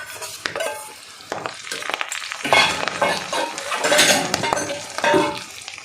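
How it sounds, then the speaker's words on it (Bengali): Fried eggplant tipped into a pan of bitter gourd curry, giving loud clattering stirs and scraping over a sizzle, with busy irregular bursts throughout. "এবার বেগুন ভাজাটা দিয়ে দেবো।"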